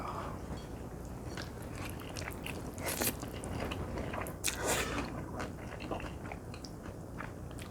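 Someone eats makguksu, buckwheat noodles, with soft, quiet chewing and a few sharper bites or slurps mixed in, heard close and alone.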